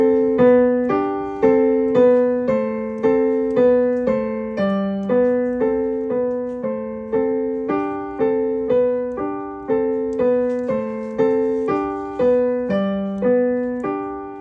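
A piano plays a skill-builder exercise in G position, evenly spaced single notes and chords stepping up and down in a steady, clear rhythm with no talking.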